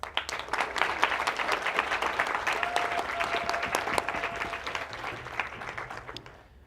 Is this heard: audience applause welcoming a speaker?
yes